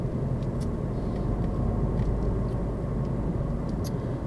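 Steady low engine drone and road rumble from a manual car cruising in sixth gear, continuous and fairly loud with no speech.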